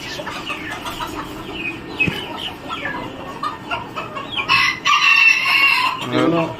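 Sebright chickens on a poultry farm, several birds clucking close by with a loud rooster crow rising near the end, people talking softly in the background.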